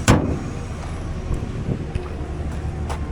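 A 2002 Mazda Miata NB Special Edition with a 6-speed manual pulls away at a salvage yard, its engine a low, rumbling drone under wind buffeting and a few soft knocks.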